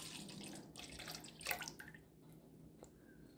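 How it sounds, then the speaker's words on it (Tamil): Buttermilk poured into a large bowl in a home kitchen, a close liquid splash and gurgle that swells for about two seconds and then trails off into faint drips, with no talking. "அதில் நம்ம ரெடி பண்ணி வச்சுருக்க பட்டர் மில்கை சேர்த்துக்கலாம்."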